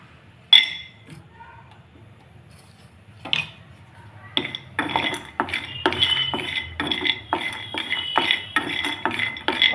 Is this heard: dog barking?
no